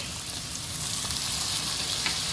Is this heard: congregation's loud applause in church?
no